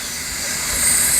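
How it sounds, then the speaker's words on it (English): Steam rushes out of a pressure cooker's valve during release, a loud, steady hiss that swells slightly over a second with no talking. "we're letting the steam out right now"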